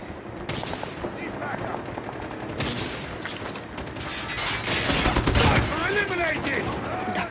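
Rapid bursts of automatic gunfire and sniper shots from the mobile shooter game Call of Duty Mobile, dense and continuous with booms, while a player talks excitedly over the action.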